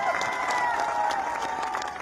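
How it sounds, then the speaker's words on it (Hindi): A large crowd at a political rally in Dausa with cabinet minister Kirodi Lal Meena claps and cheers in a dense, continuous wash of applause, with voices and whistle-like tones mixed in. "ताली बजाओ"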